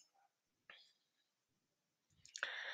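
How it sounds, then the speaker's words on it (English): A few quiet, crisp computer mouse clicks, isolated in near silence, one single tap followed later by a quick pair, heard close and soft during a software installation. "Click on next."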